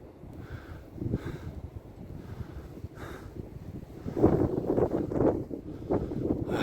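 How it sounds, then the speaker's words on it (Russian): Moderate Nord-Ost wind on the Markhotsky ridge, a steady breathy rush with gusts that swell in the later seconds, no voices. "Здесь, ну, ветер есть, но такой, не прям чтоб сильный"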